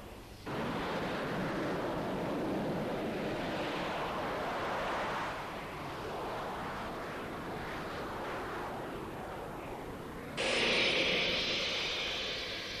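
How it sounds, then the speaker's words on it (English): Russian Sukhoi jet held by deck chocks at full power before an aircraft carrier takeoff, a loud sustained roar with wind buffeting that swells again near the end. "To get full power before takeoff, the Russians use this very simple chocking system built into the deck."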